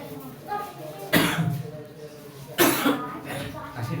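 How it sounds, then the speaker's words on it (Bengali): A person coughs twice in sharp, loud bursts about a second and a half apart, each followed by a short rasping tail, with brief quiet gaps before and after. "কাশি।"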